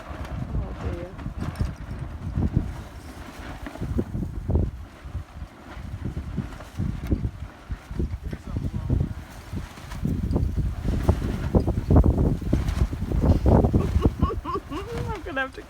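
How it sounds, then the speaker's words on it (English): Strong wind outdoors rumbles and buffets the microphone steadily, loud and gusting throughout, with voices talking over it. "It turns out it's a bit windy outside."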